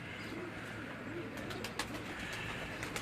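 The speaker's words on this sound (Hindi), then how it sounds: "ये उस्ताद मियां नज़ीर के घर की बड़ी मशहूर ब्रीड लाल परी ब्रीड उसी ब्रीड के ये तमाम कबूतर" Lal Pari breed pigeons coo in a low, rolling murmur, several birds overlapping steadily at close range over a constant background hiss.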